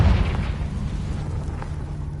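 A Confringo blasting spell in Hogwarts Legacy goes off as one loud, deep explosive boom at the start, fading into a low rumbling tail.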